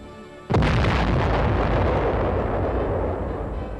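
A U.S. atomic cannon, the huge Cold War artillery gun, fires with a single sudden, very loud blast that rolls on as a long, heavy rumble and echo.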